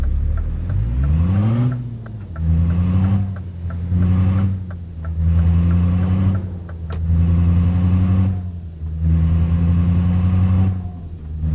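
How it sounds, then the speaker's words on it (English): A deep, loud Scania V8 truck engine with an open-pipe exhaust sound mod in Euro Truck Simulator 2 revs repeatedly, its pitch climbing in waves and dropping between gear shifts. "It is an open pipe sound mod"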